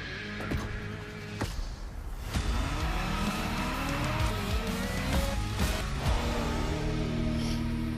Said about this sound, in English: Finally, a race. Driving a Mustang GT.